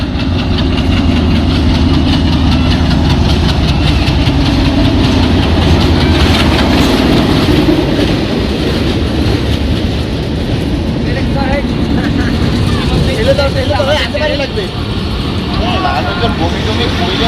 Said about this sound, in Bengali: অনেক ওয়েট করার পর যখন কাঙ্ক্ষিত ট্রেনটি আসলো, অনেক ভালো লাগলো।